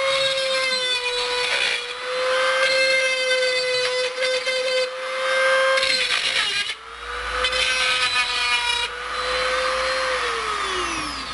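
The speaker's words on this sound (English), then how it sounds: "So if you've got a grinding wheel or a round file or something, I have a Dremel." A Dremel rotary tool grinds down injection port lids for mycology jars, a loud, steady high whine that dips briefly between passes, with gritty grinding noise over it, close up and without talking.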